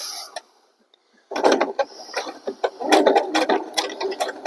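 A sewing machine back-stitching on denim jeans, a fast mechanical clatter of needle strokes in uneven bursts after a brief quiet pause, close and fairly loud.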